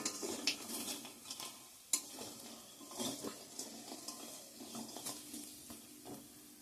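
Jackfruit seeds fry in a pan and are stirred, giving a steady soft sizzle with scraping and occasional sharp clinks of a utensil against the pan, close and fairly quiet, with no talking.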